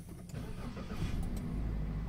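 A Toyota Rush engine starts just after its throttle body is cleaned and reassembled, cranking briefly and then catching into a steady, fairly loud cold-start idle heard up close, with no talking.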